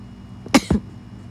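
Two quick, sharp coughs close together, loud and close by, with quiet room tone around them.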